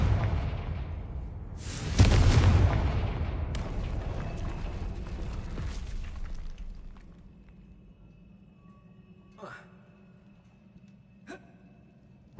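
A Confringo explosive spell in Hogwarts Legacy goes off as one loud, close boom. A long rumbling tail follows and thins into a quiet hum, broken by two faint, sharp pops later on.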